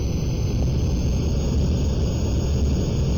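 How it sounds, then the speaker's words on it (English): An aircraft engine in the Aerofly FS2 flight simulator game roars steadily at high power, a loud, constant droning hum with no talk over it. "I think we'll just crank the throttles open and get going."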